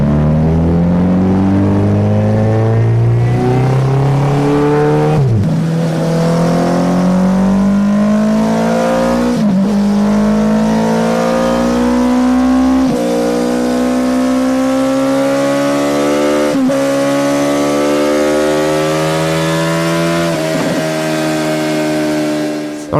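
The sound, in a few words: Hayabusa (Busa) motorcycle engine revving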